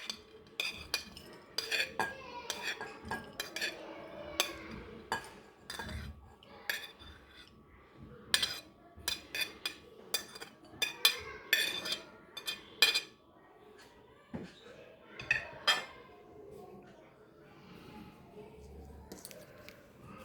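Metal utensils clink and scrape in a bowl as salad ingredients for an avocado pecan salad go in one by one, with scattered light taps and soft stirring, fairly quiet and close.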